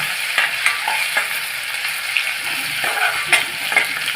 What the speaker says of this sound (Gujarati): આદુ લસણની પેસ્ટ. એ સારી રીતે સાતળી લેવાની છે